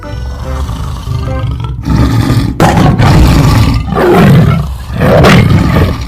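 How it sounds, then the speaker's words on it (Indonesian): A tiger roars repeatedly and loudly, several long, rumbling bursts separated by short gaps, close and dominating the scene. "Tolong, ada harimau."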